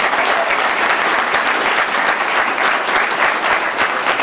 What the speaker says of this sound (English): If you believe in justice, give yourself a hand clap.